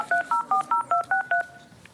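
Seven evenly spaced telephone keypad dialing tones beep in a quick, steady rhythm, clear and close with little else around them.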